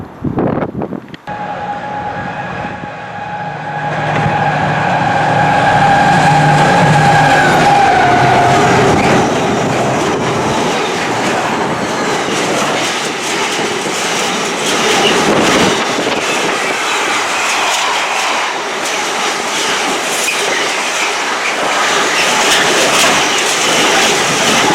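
Train passing at a railway station platform on a route to London Euston, a rising rumble and squealing wheel tone as it arrives, then a long loud roar of carriages rolling close by.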